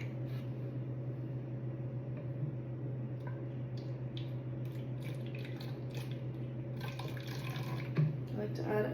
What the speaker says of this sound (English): Vinegar to the spray bottle.